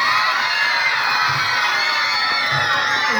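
A crowd of students at an annual school sports ceremony cheers and shouts loudly and continuously for the Yellow House team, a dense, high-pitched roar of children's voices with little clapping evident.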